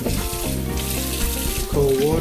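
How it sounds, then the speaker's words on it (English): Cold tap water runs steadily into a kitchen sink while food is rinsed off, a continuous close splashing that holds for the whole stretch with a slight rise near the end. "cold water, rinse them off."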